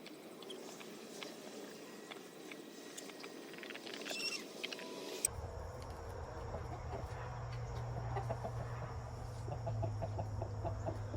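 Hens in a backyard coop, a white one and a black one sharing a nest, give soft clucks and rustles against steady outdoor background noise, with a continuous low hum filling the second half.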